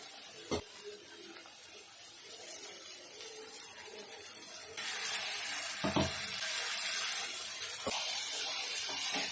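A pan of spiced chickpea paste hisses and sizzles steadily, the sound swelling into a louder fizz partway through as water hits the heat, with a few clinks.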